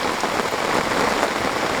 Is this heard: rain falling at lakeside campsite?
yes